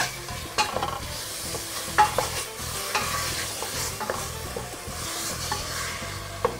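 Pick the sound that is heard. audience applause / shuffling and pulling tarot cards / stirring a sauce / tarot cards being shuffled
stirring a sauce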